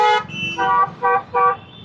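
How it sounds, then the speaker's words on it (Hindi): A scooter horn honks repeatedly from close behind, one long blast followed by three short nasal toots in quick succession, loud and harsh. "वो भी स्कूटी वाला है, मतलब इसने गंदा सा हॉर्न लगाया हुआ है और लगातार बजा रहा है।"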